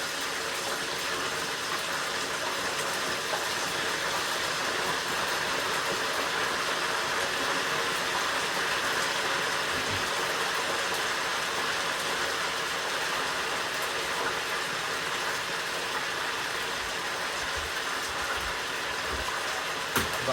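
Chicken wings seasoned with Cholula sizzle in an overfilled pot of deep frying oil, a steady, dense hiss and crackle running loud and unbroken throughout.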